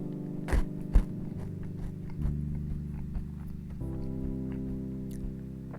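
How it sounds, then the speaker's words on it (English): Someone eats wasabi peas one or two at a time, with sharp crunchy bites and then quieter chewing. The sounds are close to the microphone and come over a steady low hum, with no talking. "I'm going to have a couple wasabi peas, because these things are very good."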